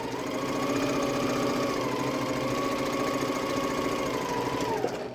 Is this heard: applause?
no